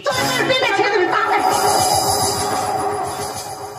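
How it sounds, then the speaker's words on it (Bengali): A train runs along its rails, loud and close, with a steady rumbling roll and some squealing wheel tones that ease off slightly near the end. "ট্রেনের মধ্যে এসে উঠে পড়েছি"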